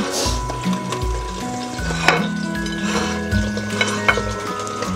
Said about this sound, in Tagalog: Magigisa tayo ng bawang.